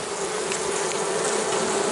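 A dense, steady buzzing of many bees inside a tree cavity, close and continuous, with no pauses and no voices.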